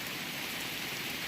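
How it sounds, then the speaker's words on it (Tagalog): Heavy rain pours steadily beside a mango tree, a dense, continuous hiss of drops hitting surfaces with no break, close and fairly loud throughout. "Ang lakas ng ulan."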